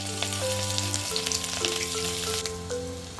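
Onion fries in hot oil with whole cumin seeds for Assamese chana bhaja, a continuous bright sizzle heard close and fairly quiet beneath soft background music, with no talking.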